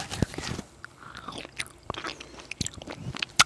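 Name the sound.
chewing foldable hard candy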